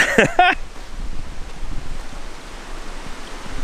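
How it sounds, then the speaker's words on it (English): Wind gusts steadily across an open campsite by a fire at Wonnangatta Station, making a soft, rushing hiss that rises and falls, with a brief high chirp at the very start. "The wind's picked up a bit, as you can see by the fire"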